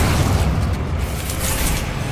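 A Bombarda blasting spell goes off in Hogwarts Legacy as a deep, sustained rumbling boom, loud and steady for about two seconds with no voices over it.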